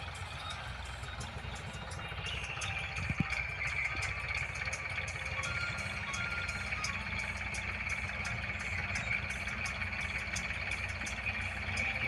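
A tractor engine runs steadily at a mid-pitched idle, a continuous rumbling drone that stays constant throughout.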